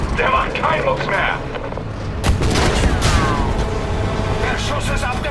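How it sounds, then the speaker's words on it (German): Tank gunfire in the video game Battlefield V: a sharp, loud cannon blast partway through, followed by rumbling echo and battle noise, with voices talking in the surrounding combat. "Der Schuss ist abgeprallt."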